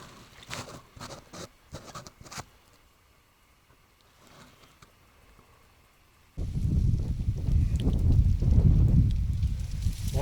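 Strong west wind on a far-northern coast, gusting buffets and rumbling roar against the microphone that swell loudly in the second half after quieter patter and rustling.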